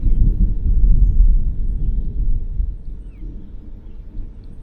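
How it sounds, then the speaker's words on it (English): Low thunder rumbles through a summer storm at a truck campsite, a deep, rolling boom that swells loud at first and then fades gradually into a softer, distant grumble. "little thunder and lightning action going on."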